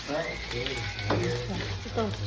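Ground beef fries with garlic in a low pan for a spaghetti sauce, giving a steady close sizzle with stirring scrapes while a voice is faintly heard.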